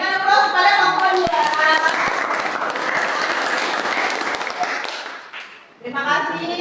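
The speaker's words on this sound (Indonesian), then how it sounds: "Kita berikan aplaus kepada kelompok" Students in a classroom applaud a student group after a physics lesson on temperature and heat, a dense burst of clapping lasting several seconds with a teacher's voice before and after.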